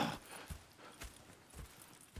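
Horse hooves clip-clop at an unhurried walking pace in Red Dead Redemption 2, each soft, muffled footfall landing at roughly half-second intervals against a quiet background.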